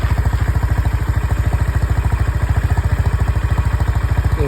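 A Honda CB350 RS motorcycle idles after a cold start, its single-cylinder thump pulsing in a steady, fast, even rhythm, loud and close with a faint mechanical clatter and no talk.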